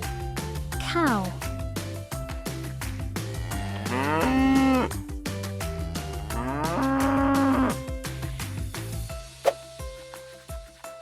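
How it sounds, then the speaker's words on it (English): A cow moos twice, long and drawn out, loud and close, over a bouncy music track with a short rising call near the start. "Cow."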